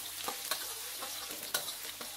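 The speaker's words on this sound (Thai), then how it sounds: "ผัดให้ทุกอย่างเหลืองกรอบเลยครับ" Chopped garlic and coriander root stir-fried in oil in a fresh wok, a soft sizzle broken by repeated scraping stirs of the spatula at an irregular rhythm, close by with no voices.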